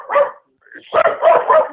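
A pet dog barks indoors during a radio talk show, first a single yip, then a pause and a quick run of three or four close, loud barks, with no talk over them.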